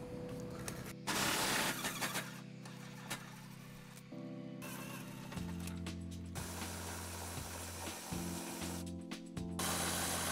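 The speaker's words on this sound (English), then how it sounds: "We're going to remove those using an 18 millimeter socket." An 18 mm socket on a ratchet removes tow hook bolts from the frame of a 2015 Infiniti QX60, giving bursts of mechanical whirring and clicking, close and fairly quiet, with short pauses between runs.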